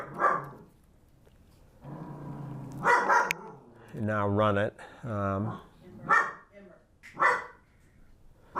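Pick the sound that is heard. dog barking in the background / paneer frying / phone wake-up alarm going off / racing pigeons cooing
dog barking in the background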